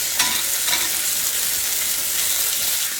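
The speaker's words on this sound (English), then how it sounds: "We're going to get these seared real good and give them a few minutes just to cook." Hamburger steak patties sear in a hot pan with a steady, close hiss and broad crackle, with a couple of brief clicks near the start and no talking.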